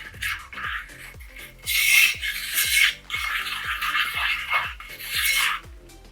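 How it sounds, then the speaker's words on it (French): Green clay face mask mixture stirred with a spoon, a close, rasping scrape in a steady repeated rhythm of strokes that swells in louder bursts, with no voices. "Je suis en train de bien mélanger pour obtenir la consistance"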